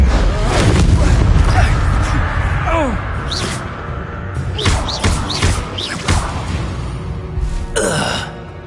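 The Incendio fire spell cast in Hogwarts Legacy, a loud magical burst with whooshing flame and thumping impacts under continuous game sounds, followed by several sharp rising whistles and crackles.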